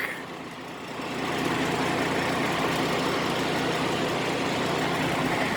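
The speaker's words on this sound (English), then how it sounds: "This is my truck." A 2014 Freightliner Cascadia truck idles with a steady, loud diesel rumble that swells slightly after the first second and then holds constant with no voices.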